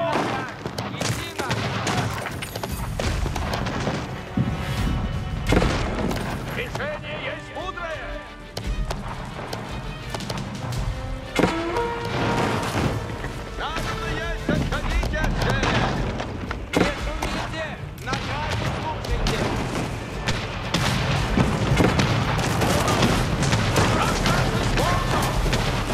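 Dense battlefield gunfire from soldiers in Age of Empires IV: rapid overlapping musket volleys and booms in a continuous loud fusillade, with voices calling out through the din.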